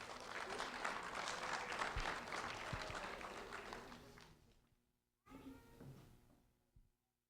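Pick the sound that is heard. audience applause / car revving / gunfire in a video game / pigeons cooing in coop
audience applause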